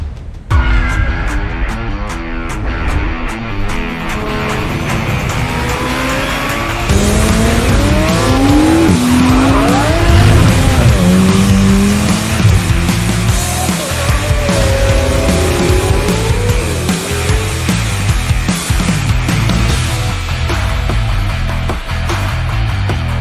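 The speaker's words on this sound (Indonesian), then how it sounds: "the most powerful Ferrari V8 yang pernah tercipta. Inilah Ferrari F8 Spider." Ferrari F8 Spider, the most powerful Ferrari V8 sports car, driven hard with a loud sustained engine roar, rising and falling revs and tire squeal throughout, no voices.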